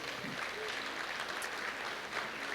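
Congregation applause at a Portuguese-language church service, a steady broadband clapping wash across the whole stretch, moderately loud and continuous with faint voices underneath.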